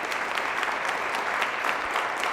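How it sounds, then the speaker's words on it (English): A studio audience applauds students, an even, continuous round of clapping at moderate volume with no talking on top. "One more round of applause for the Connellsville students."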